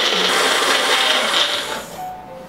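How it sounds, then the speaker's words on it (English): A kitchen blender runs loudly and steadily while blending mango key lime pie filling, a continuous whirring grind close by. It then winds down and goes quiet at the end. "So now you're just gonna blend this all together in your blender."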